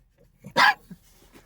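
A single sharp dog bark, close and fairly loud, followed by a couple of faint softer yips.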